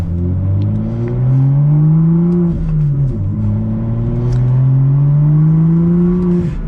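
A BMW M2 sports car with a six-speed manual climbs steadily in pitch under acceleration, dips briefly at a gear change, then rises again with a deep, loud exhaust note.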